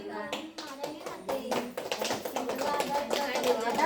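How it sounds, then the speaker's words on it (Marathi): A crowd claps hands steadily at a Bhaubeej family gathering, loose overlapping claps building toward the end, with faint voices mixed in. "जोरदार टाळ्या वाजवा."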